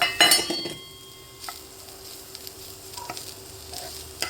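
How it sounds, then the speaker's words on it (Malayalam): Vegetables for potato bonda soften in a pan with a quiet, low sizzle, broken by a few clinks of a utensil against the pan near the start and light stirring afterward. "നമുക്ക് നന്നായിട്ടൊന്ന് വഴന്ന് കിട്ടിയാൽ മതി നല്ല സോഫ്റ്റായിട്ട്"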